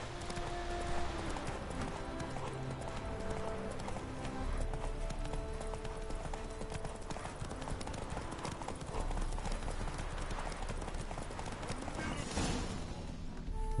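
A horse gallops in The Witcher 3, with continuous rhythmic hoofbeats at steady speed mixed with game ambience and music, and a faint voice now and then.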